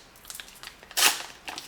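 A trading card booster pack is torn open in a few quick crinkly bursts, with one louder, sharper rip near the middle and a smaller tear just after.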